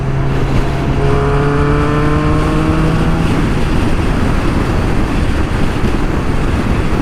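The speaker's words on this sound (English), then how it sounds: "I like just twisting the throttle in here in this motorcycle growl" A 1994 Kawasaki Ninja ZX-11 (ZZR1100) motorcycle engine drones loudly in sixth gear under strong wind rush, its pitch climbing in a brief throttle rev before settling into a steady roar.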